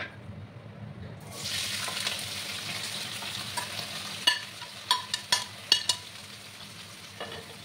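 Potatoes, onions and green chilies hit hot oil with a sudden loud sizzle that settles into a steady fry, with a handful of sharp spatula clacks near the end as the pan is stirred.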